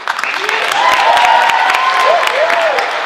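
Studio audience at a live comedy sketch show clapping and cheering, dense continuous applause with whoops and shouts rising above it, loud and close throughout.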